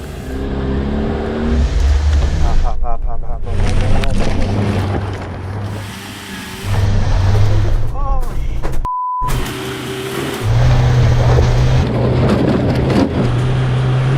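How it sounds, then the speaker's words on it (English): A Land Rover Defender with a manual gearbox climbs an off-road slope, its engine revving hard in loud surges with tonal drone and wheel spin, dipping and returning, with a brief electronic beep midway. "What a racket and what a load of wheel spin."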